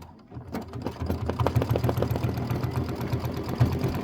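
A Kimberbell embroidery machine stitches a fancy decorative stitch on a chenille pineapple quilt block, a fast steady mechanical chatter that starts quietly and settles into an even rhythm, close up with no speech.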